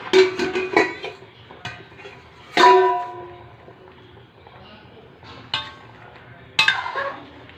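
A metal pot lid clinks and rattles a few times as it is lifted from a pot of boiling mangoes, with sharp close clanks separated by pauses.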